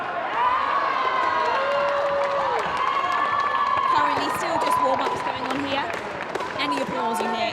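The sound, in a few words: crowd applause for women's badminton in sports hall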